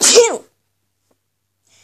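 One sharp, loud sneeze bursts out close by, then quiet follows.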